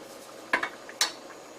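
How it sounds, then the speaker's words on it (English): Glazed carrots being stirred in a pot: two distinct clinks of a utensil against the cookware with a lighter knock between, close and clear over a quiet kitchen background with no talking. "Stir it around a little bit."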